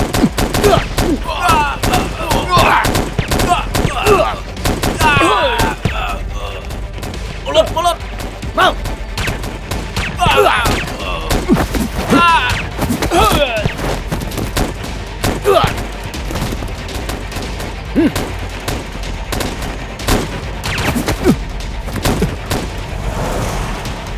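Gunfire in a martial arts action film scene, with dense bursts of shots and booming impacts layered over a loud soundtrack, while voices shout beneath the chaos throughout.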